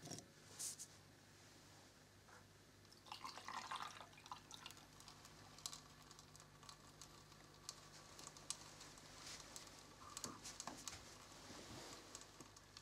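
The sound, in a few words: water flowing by gravity in a homemade bottle fountain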